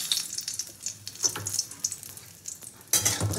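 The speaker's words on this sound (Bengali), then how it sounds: "প্রথমে আমি শুকনো লঙ্কাগুলো একটু ভেজে তুলে রাখবো।" Dried red chilies frying in a hot pan, a soft crackle of sizzling with scattered scraping and stirring clicks, then a louder burst of sizzle near the end.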